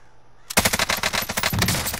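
Loud automatic gunfire in a shooter video game erupts after a brief quiet moment, firing dense rapid bursts close up that continue to the end.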